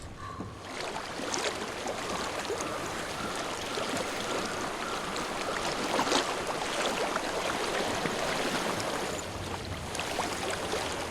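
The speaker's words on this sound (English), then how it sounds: "I hear water." Flowing stream water in the video game Hellblade: Senua's Sacrifice gurgles and rushes steadily at moderate volume, with light wind, and no voices over it.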